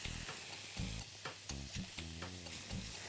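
Vegetables for a wok-style pan fry hit a very hot pan, a dense continuous sizzle with crackling spits and occasional scraping or stirring bumps, close and steady throughout.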